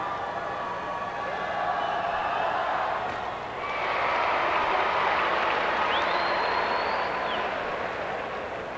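A big crowd at a basketball game in Hershey Park Arena produces a dense, steady roar of cheering and chatter that swells slightly midway and stays loud throughout.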